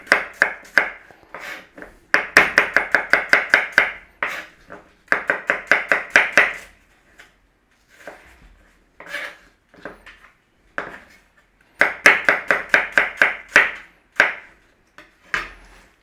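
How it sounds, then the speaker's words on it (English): An apple is sliced on a board, heard as close, rapid bursts of knife chops, each run a quick series of sharp taps separated by short pauses, with no talking. "slice the apple."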